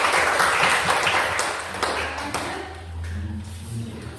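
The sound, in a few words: audience applause for the presenting group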